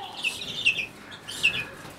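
High, thin chirps from baby chicks come in short bursts, with a few quieter peeps and soft rustling between them.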